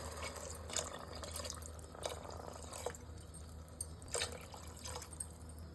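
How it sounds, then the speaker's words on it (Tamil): Water is poured into a pot of soaked basmati rice for biryani, a faint, steady trickling and splashing with a few small drips, quiet and without talk. "2 டம்ளர் அரிசிக்கு 4 டம்ளர் தண்ணி ஆட் பண்ணுறேன்."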